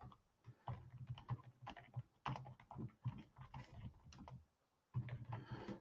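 Quick bursts of clicking on a computer keyboard, close and soft, with brief pauses between runs of keystrokes.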